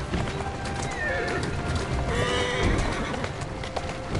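Horse in Assassin's Creed Syndicate neighs while its hooves clop steadily on the ground, a close, loud whinny over continuous footfalls with game ambience behind.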